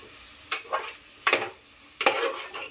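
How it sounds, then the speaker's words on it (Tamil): A spoon scrapes and stirs masala in a cooking pot for mutton biryani, three distinct scraping strokes close by over a faint background sizzle. "இந்த மசாலாவை இறங்குற அளவுக்கு நல்லா கிண்டி வச்சுக்கலாம்"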